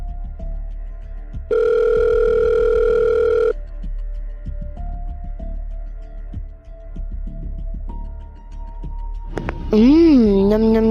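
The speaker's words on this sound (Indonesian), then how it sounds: "Coba deh, gue telepon balik." A phone call tone in the video game Sakura School Simulator sounds as one steady electronic tone lasting about two seconds, followed by softer beeps and a warbling electronic sound near the end.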